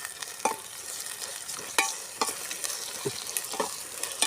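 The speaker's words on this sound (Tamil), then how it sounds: "இப்போ இஞ்சி பூண்டு பேஸ்ட் போடுவோமா எல்லாம் அம்மியிலே அரைச்சி வச்சுட்டேன் போட்டாச்சு" Ginger garlic paste, hand-ground on a stone grinder, frying in a pan for a squid curry, with a steady sizzle and repeated scraping knocks of a stirring spoon, close and fairly loud.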